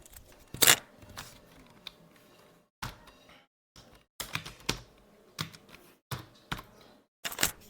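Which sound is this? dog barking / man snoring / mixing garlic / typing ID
typing ID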